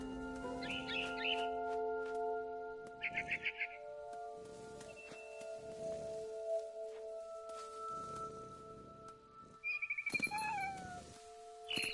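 A cat in the video game What Remains of Edith Finch meows several times in short bursts among chirping birds and quiet game ambience, faint and intermittent with no talk.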